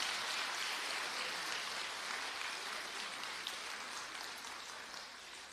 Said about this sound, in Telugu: తల్లిదండ్రి కోసం ఒక చప్పట్లు కొట్టండి ఒకసారి